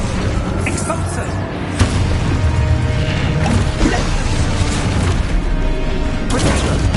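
An Expulso explosion spell goes off during Hogwarts Legacy combat, a loud blast amid continuous mechanical clatter and crashing effects, with voices in the background.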